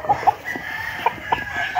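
Roosters and stags at a gamefowl farm give short clucks and calls, several sharp bursts spaced irregularly over a faint ongoing crowing tone.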